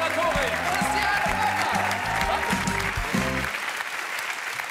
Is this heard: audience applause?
yes